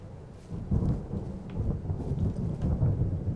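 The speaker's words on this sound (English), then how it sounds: "Thunder." Thunder in Firewatch rolls as a low, sustained rumble of moderate loudness, mixed with light rain texture and no voices.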